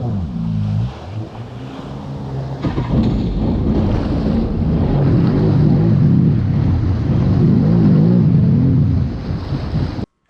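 A Waveblaster personal watercraft engine roars steadily over rushing water and wind buffeting, loud and close throughout, with a brief dip near the start.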